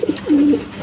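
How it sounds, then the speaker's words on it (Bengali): A single pigeon gives a short, low, close-up coo lasting under a second, with no talking. "দর্শক এইখানে এক পেয়ার বেবি কবুতর, আপনার ইন্ডিয়ান বোম্বাইয়ের বেবি।"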